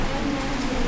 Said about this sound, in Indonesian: Lihat hujan.